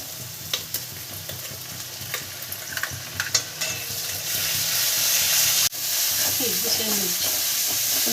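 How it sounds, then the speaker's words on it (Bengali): Onions frying in a pan for a sesame and pointed gourd dish, a close sizzle broken by spatula clinks and scrapes that swells into a louder, steadier hiss after a sharp knock midway, no talking. "পেঁয়াজগুলো একটু ভাজা ভাজা হোক"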